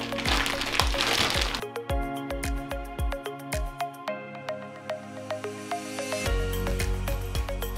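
Crinkling, crackling plastic packaging of a Jumbo I Dig Monsters giant plush toy being torn open up close, with bursts of crumpling followed by sharp intermittent cracks and rustles.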